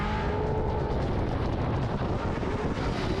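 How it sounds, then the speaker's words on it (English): A drift car thrown into a corner at over 140 km/h at Winton Motor Raceway during a Drift Allstars round, heard as a loud, steady roar of rushing wind and engine noise with no talk. "Listen to the wind go over the car as they throw it in over 140 kilometres an hour."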